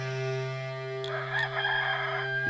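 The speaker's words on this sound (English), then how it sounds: "Immediately a rooster crowed" A rooster crows once, a clear, moderately loud call lasting about a second over a faint steady hum, with no one speaking.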